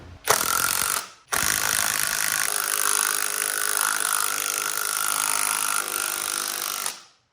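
A SKIL PWRCore 20 impact driver on its high setting hammers a large bolt into wood in a loud, continuous rattling burst, after a brief opening blip and short pause, stopping abruptly near the end.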